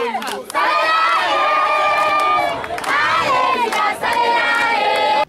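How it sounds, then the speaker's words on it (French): Residents of the commune cheer and shout with loud, high voices at the opening of a football tournament on the Mukanga 2 neighbourhood pitch, a dense crowd roar rising in waves with a few short breaks. "sous les applaudissements des habitants de cette commune"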